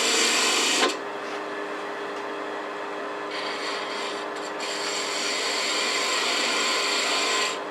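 A spindle gouge makes a parting cut in wood spinning on a lathe for a snowman ornament, producing a steady rushing scrape over the hum of the lathe, fairly loud and continuous with a brief change near the start, no talk.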